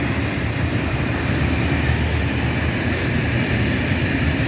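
A train rumbles past close by, a steady loud low roar with faint rhythmic rattling of the cars throughout.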